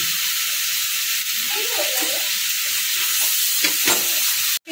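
Fried prawns and fried, boiled jackfruit sizzle and hiss steadily in a pan with split green chilies, with soft stirring scrapes and a sharp clatter at the end.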